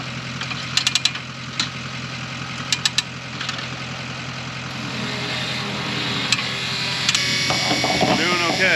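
A John Deere 3020 tractor engine idles with a steady, low, knocking chug, while sharp metallic clanks pop up now and then and someone talks nearby.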